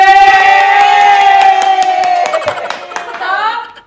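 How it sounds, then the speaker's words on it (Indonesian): A small group cheers with a sustained, drawn-out shout over scattered hand claps. It is close and loud, then fades out at the end. "Tepuk tangan lagi."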